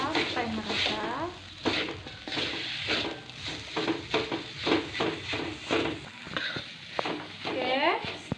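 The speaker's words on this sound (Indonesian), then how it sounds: "Kita aduk sampai merata." A spoon scrapes and stirs ingredients in a pan, with palm sugar just added, in repeated rhythmic strokes until everything is evenly mixed, with a voice speaking intermittently.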